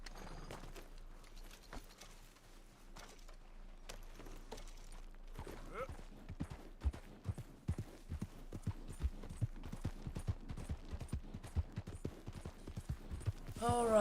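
Horse hooves clip-clop steadily in Red Dead Redemption 2, a quiet, loose start building to a brisk, regular trot over a low background hum, with a brief voice near the end.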